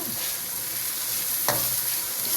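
Chickpea pulao is stir-fried in a pot over high heat, making a dense, constant sizzle with a single spoon scrape in the middle and no voices.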